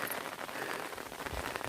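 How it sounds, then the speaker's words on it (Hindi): Sudden heavy rain pounds on hillside farm fields and an umbrella, a dense close patter with scattered louder drops and a dull thump, steady and loud without talk. "बहुत तेज बारिश लगी एकदम से"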